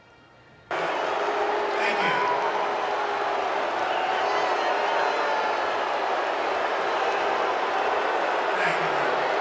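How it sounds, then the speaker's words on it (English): A large stadium crowd at a Washington Commanders game mixes cheers and boos during a military enlistment ceremony, a dense roar that starts abruptly and holds steady for nine seconds with scattered whoops. "you can hear a mix of cheers and boos as he swore in the military enlistees"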